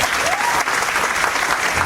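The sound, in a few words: audience clapping, applause on request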